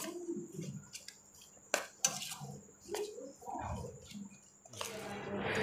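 Ground meat and spices for seekh kabab, with salt and garam masala, are mixed by hand in a bowl, giving quiet irregular scrapes and clinks of utensils against the dish, with a few sharper knocks and faint background noise.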